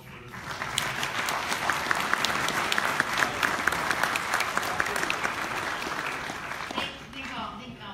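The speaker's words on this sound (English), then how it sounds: "How about a round of applause for this?" A crowd under a dome gives a sustained round of applause, a dense, even roar of many hands lasting several seconds, with a few voices rising faintly near the end.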